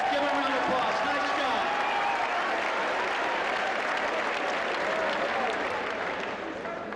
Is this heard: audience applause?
yes